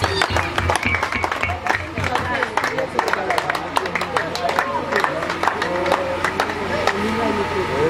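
A crowd at a live music event claps and cheers in a dense, continuous wash of applause that stays loud and steady throughout, with voices shouting under it.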